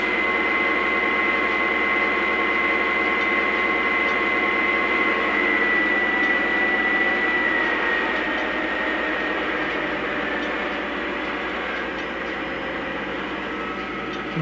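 Steady, unchanging drone of a model Norfolk Southern Dash 9 locomotive engine idling, its sound system holding a constant hum and faint whine throughout with no voices.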